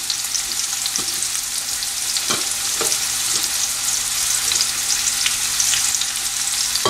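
Red onions sauté in a hot pan with loud, continuous sizzling and frying, broken by occasional stirring clicks close by, with no talking.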